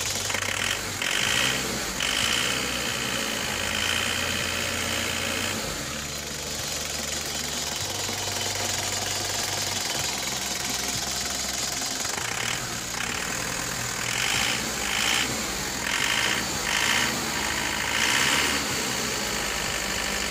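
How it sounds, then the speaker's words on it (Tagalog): An Isuzu Crosswind diesel engine with a faulty, grinding injection pump, causing low power and white smoke, runs continuously with a harsh, grinding mechanical clatter and knocking, loud and close, with no one speaking. "dito po ay narinig natin na napaka-grinding po nung ating injection pump"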